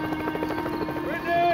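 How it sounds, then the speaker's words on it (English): A helicopter flies overhead during a search for a missing child in a park, its rapid rotor chop loud and close, with a voice heard over it near the end. "A helicopter joined overhead."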